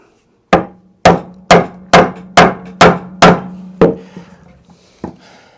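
A Dewalt chisel is struck with a mallet as it chops down into a wood knife line: eight sharp, loud woody knocks in a steady rhythm, each ringing briefly, and then one fainter tap after a pause.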